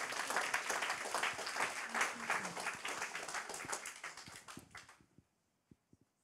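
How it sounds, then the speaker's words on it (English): Audience applause for the competing teams at a greenhouse horticulture event, a dense wash of clapping for about five seconds that cuts off abruptly, leaving a few scattered isolated claps. "Give a big applause to all teams."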